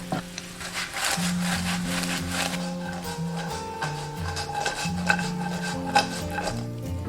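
Popcorn stirred in a pot with caramelized sugar syrup and melted butter: steady scraping and rubbing against the pot, heard close up under tonal background music.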